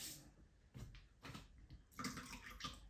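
Hot water runs from a tap into a basin while someone prepares to shave with a double edge razor, a soft, close splashing and trickling that rises and falls in uneven bursts and stays fairly quiet.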